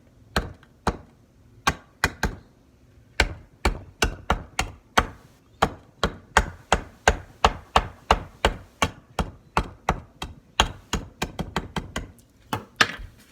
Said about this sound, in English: Then just use your smasher.